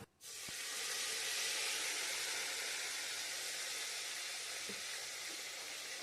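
Green chili, tomato pieces and ginger hit hot oil in a pan for a winter vegetable khichdi, bursting into a loud, steady sizzling hiss that carries on close by.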